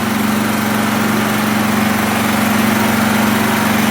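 A Champion 100520 generator running on propane in eco mode at about 2,800 RPM gives a loud, steady engine drone with a strong low hum. It holds constant throughout with no speech.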